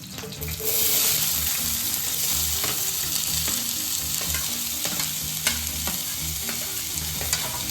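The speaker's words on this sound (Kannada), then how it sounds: "ಇವಾಗ ಈರುಳ್ಳಿ ಫ್ರೈ ಆಗ್ತಿದೆ" Chopped onions with cumin seeds frying in a pan for an egg gravy, a loud steady sizzle with stirring scrapes running throughout, close and alone with no talk.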